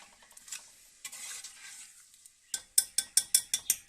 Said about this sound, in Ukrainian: І обжарюємо наше м'ясо до золотистої курочки, як то кажуть. Після чого кидаємо цибулю та моркву.